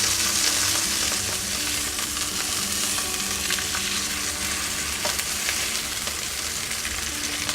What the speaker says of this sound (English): I'm just pressing it down in the pan so that it will brown evenly